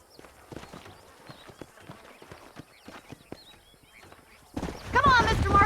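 Horses in the Red Dead Redemption video game clip-clop in a steady trotting rhythm, hooves sharp and fairly close, before a loud burst of other game sound near the end; speech is present.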